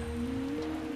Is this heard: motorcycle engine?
no